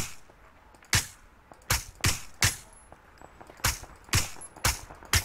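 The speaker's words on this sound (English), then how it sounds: "I'm shooting him through a wall." Suppressed gunfire in an online shooter, aimed through a wall: eight or nine sharp, close single shots spaced irregularly, around half a second to a second apart, over a quiet background.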